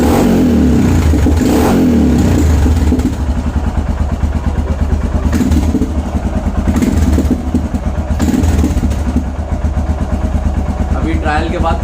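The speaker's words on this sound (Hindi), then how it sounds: "इंजन काफ़ी रिस्पॉन्सिव हो चुका है और साउंड भी चेंज हो गया है।" A Royal Enfield Himalayan motorcycle engine with freshly rejetted carburetor revs repeatedly up and down, loud and close, with a throbbing idle between blips.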